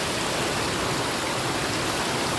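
Water flows in a creek with a steady, dense rushing hiss that stays loud and unbroken throughout, with no voices.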